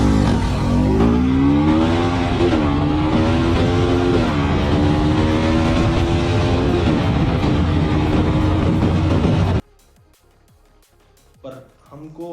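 A Bajaj Pulsar NS200 motorcycle accelerating hard from 0 to 100, a loud, steady engine roar rising through the gears for about nine seconds, then cutting off abruptly to near quiet with a brief faint sound at the end.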